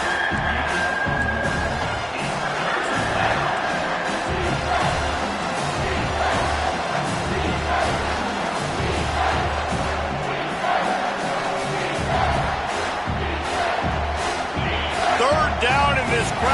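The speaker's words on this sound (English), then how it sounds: "this crowd will blow out a vocal cord to help this defense" A packed football stadium crowd at a Wisconsin vs South Carolina game roars steadily and loudly for the defense, a dense wall of cheering that never lets up, with excited shouts rising through it.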